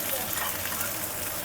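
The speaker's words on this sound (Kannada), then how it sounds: "ಈ ಥರ ಫ್ರೈ ಮಾಡಿ ಮಾಡೋದ್ರಿಂದ ಚೆನ್ನಾಗಾಗುತ್ತೆ, ಹಸಿ ಮಸಾಲೆ ಸ್ಮೆಲ್ ಬರಲ್ಲ" Raw masala for mutton biryani frying in a pan, a dense, even hiss of sizzling oil that holds steady and close throughout.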